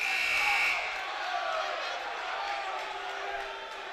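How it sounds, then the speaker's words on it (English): Home basketball crowd at a high school boys' game booing and grumbling in disapproval of an out-of-bounds call, a steady loud roar of many voices in a gym, swelling at first then holding. "Home crowd doesn't like that one."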